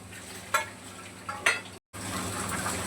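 Masala paste sautéed in a pressure cooker, a low steady sizzle broken by two sharp scrapes of a spatula against the metal, then a brief dropout before the frying hiss resumes.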